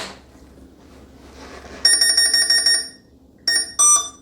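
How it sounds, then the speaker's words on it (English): Startup beeps of an SP140 electric paramotor controller: a loud, sustained electronic tone followed by two shorter beeps, close and clear after a faint rustle. "There's the startup beep"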